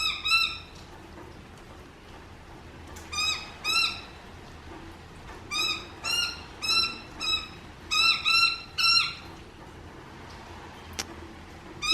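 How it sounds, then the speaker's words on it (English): A noisy miner bird gives repeated bursts of sharp, harsh chattering calls in clusters across the stretch, moderately distant over a quiet outdoor background with faint traffic hum. "It's a noisy miner, by the way."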